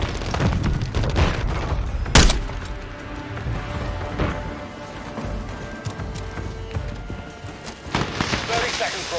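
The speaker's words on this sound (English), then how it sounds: "Grenade out! Semtex incoming!" A Semtex grenade goes off in Call of Duty: Modern Warfare 3 on the Underpass map during team deathmatch, one sharp loud blast amid ongoing gunfire and footsteps, with voices calling out during the match.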